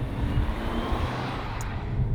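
A 2004 Skoda Octavia vRS with a 1.8 turbo engine, heard from outside as a steady broad rumbling drone with a faint whistle on top, fairly loud and continuous, no voices.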